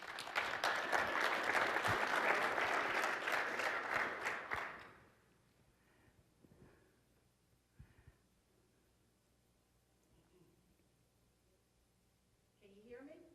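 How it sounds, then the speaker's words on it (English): An audience at a Microsoft FastTrack Azure event claps warmly for a customer invited on stage, loud, dense applause for about five seconds that then cuts off, leaving quiet room sounds and faint talk. "Please give a big warm round of applause to Miss Linda."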